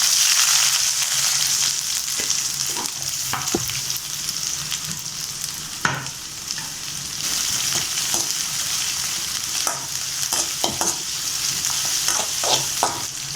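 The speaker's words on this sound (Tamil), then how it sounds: "நம்ம கடாயை வச்சு எண்ணெய் ஊற்றிக்கலாம். கொஞ்சமாக சோம்பு ஆட் பண்ணிப்போம். கொஞ்சமாக வெங்காயம் போட்டுக்கலாம்." Onions and fennel seeds fry in oil in a kadai for chicken fried rice. A steady hiss of sizzling runs under repeated scraping clatters of a spoon stirring against the pan, close and with no talking.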